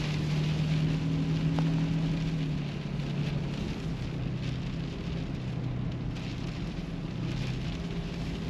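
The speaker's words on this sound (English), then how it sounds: "I think it's raining now." Rain mixed with snow patters steadily against a car window during a snowstorm. The soft, even hiss of the hits lasts throughout beneath a low cabin rumble.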